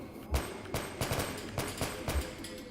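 A .45 weapon in Metal Gear Solid 4 fires five evenly spaced shots at a steady pace, each a sharp crack with a low thump, with someone talking faintly between shots.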